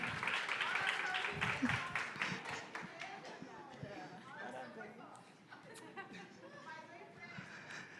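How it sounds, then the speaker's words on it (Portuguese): An audience claps in a brief burst of fairly faint applause at a church teacher-training lecture, followed by talk and murmuring chatter. "Palmas para o número 29."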